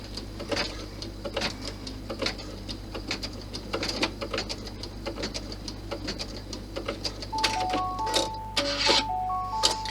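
A sewing machine stitches a line on fabric for a cross-body messenger bag, a steady low motor hum with a quick rhythmic tapping, joined near the end by short bright electronic beeps.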